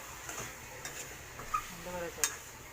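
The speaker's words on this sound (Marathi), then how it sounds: "आता टेस्टसाठी गरम मसाला टाकलेला आहे आणि त्याला मस्तपैकी अशी फ्राय करून" A spoon stirs chicken curry with garam masala as it fries in a pan, giving a faint sizzle under a few light scrapes and clinks of utensil against metal, with no one speaking.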